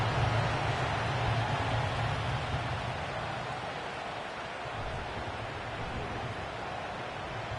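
Steady hiss of rain falling over a stadium field during an NFL 25 football video game, a dense, even wash of noise that continues unbroken throughout with a faint low rumble beneath.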